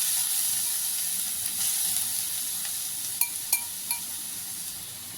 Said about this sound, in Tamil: இப்போ இந்த நெய்யில் நம்ம என்ன பண்ணிக்கலாம்னா, எடுத்து வச்சுருக்க அந்த பூசணிக்காயை போட்டுக்கலாம்.